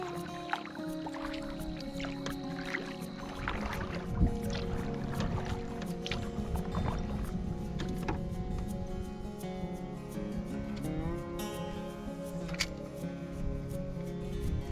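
A canoe being paddled upstream on a shallow Adirondack waterway makes quiet, close paddle strokes: soft swishes, drips and small splashes over low water noise.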